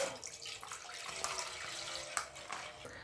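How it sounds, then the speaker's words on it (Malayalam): Half a litre of milk is poured into a pot sitting on a gas stove for vermicelli payasam, giving a steady liquid stream with a few small splashes, soft and close. "ഞാൻ ഗ്യാസിൽ ഒരു പാത്രം വെച്ചിട്ട് ഇതിൻ്റെ ഇതിലോട്ട് 1/2 ലിറ്റർ പാൽ ഒഴിച്ചു കൊടുക്കാം."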